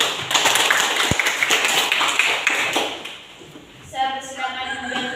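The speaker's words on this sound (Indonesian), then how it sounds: "kita beri tepuk tangan untuk teman Denny" A classroom group claps for a classmate after a discussion presentation: brisk, fairly close applause for about three seconds that fades out, followed by a voice speaking.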